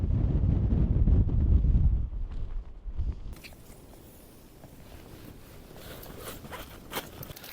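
Strong gusts buffet the microphone at a tent campsite, a heavy low rumble in the first two seconds easing into steadier, lighter wind noise with faint flapping and rustling.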